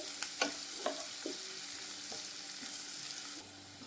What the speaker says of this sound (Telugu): ఈ గోల్డెన్ బ్రౌన్ వచ్చేంత వరకు బాగా ఫ్రై చేసుకోవాలండి